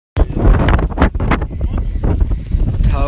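Strong wind roaring and buffeting the microphone in cold rain during a duck and goose hunt in Romania, a loud, steady rumble that starts abruptly and continues under someone talking.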